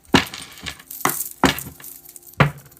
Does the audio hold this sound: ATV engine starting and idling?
no